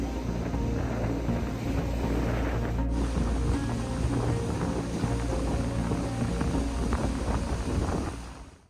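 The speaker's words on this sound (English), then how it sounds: "The next few hours brought one storm after another." Stormy wind and waves batter a lake campsite at night during a canoe camping trip, a steady loud roar of gusts and rushing water with wind buffeting the microphone, fading out at the end.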